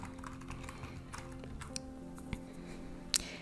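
Computer keyboard typing while a new table name is entered in Power BI Dataflows, light scattered key taps over a faint steady background hum, with one sharper click near the end.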